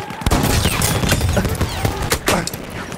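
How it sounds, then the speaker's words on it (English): Machine gun fire in a video game: dense, continuous rapid bursts of gunshots that fill the whole stretch, loud and close, with no talking. "machine gun, look out!"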